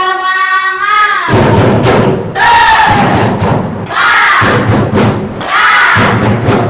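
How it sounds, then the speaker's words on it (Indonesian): A group at a teacher-training session in Ambon claps a loud, close spirit clap, with rhythmic thumps punctuated by three bursts of collective shouted chanting. "Ayo 1, 2, 3. Tepuk semangat."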